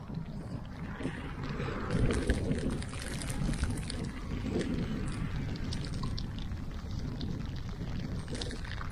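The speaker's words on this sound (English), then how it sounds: "we finally have a day where it's chucking it down with rain, windy and foggy" Heavy rain and gusty wind on a foggy, sodden day outdoors make a steady, dense roar with low rumbling buffets, continuous and fairly close, with no voices over it.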